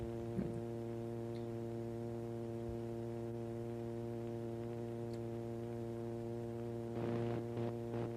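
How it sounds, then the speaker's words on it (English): Steady electronic sine-wave tone from the 1967 experimental film Wavelength, heard as a constant, fairly quiet hum with stacked harmonics holding unchanged throughout, joined by a few faint ticks and brief rustling near the end. "the traffic noise is now gone, and we've now got the sine wave"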